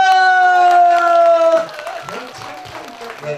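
Audience applause at a Korean pumba performance at an outdoor chrysanthemum festival in Hampyeong, a burst of clapping and scattered cheering that rises as a sustained sung or amplified tone ends, then continues loosely under crowd noise.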